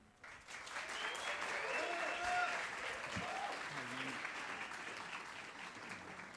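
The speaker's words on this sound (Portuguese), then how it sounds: "gostaria de uma salva de palmas para apresentar o JP" Audience applause at a startup festival talk, a sustained wash of clapping swelling early and holding steady, with a few faint voices and whoops underneath.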